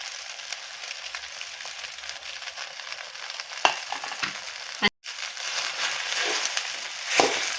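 Crushed peanut powder going into sabudana khichdi in a hot pan, a steady close sizzle and crackle throughout, with a few soft scraping stirs and a brief gap before the frying resumes.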